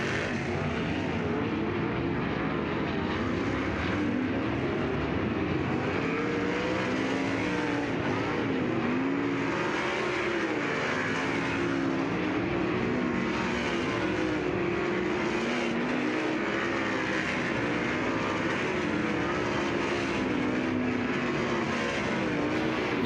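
Sprint race cars lap Lucas Oil Speedway in a Kubota High Limit Racing session, a continuous loud roar of engines rising and falling in waves as the cars circle the dirt track, with no pause.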